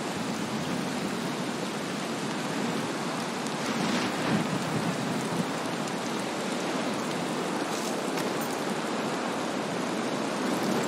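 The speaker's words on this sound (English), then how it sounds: "weather out the storm down here" A thunderstorm in the video game Valheim: steady, dense rain hiss with low rumbling thunder underneath, continuous and fairly loud throughout with no talking.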